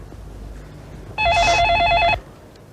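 A telephone rings once in a home, a bright electronic trill lasting about a second, loud and close, rising out of quiet room tone.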